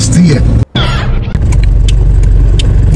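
A car rolls into a parking spot, its engine rumbling steadily and loudly close by, with someone talking over it throughout and a short break in the sound early on.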